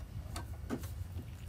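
An embroidery machine stitches a tack-down line on a wall-hanging block: a few soft mechanical ticks and thumps at an uneven pace over a low motor hum, close by.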